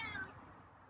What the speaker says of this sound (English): Yeah, you're meowing a lot.